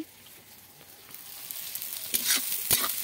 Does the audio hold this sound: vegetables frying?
yes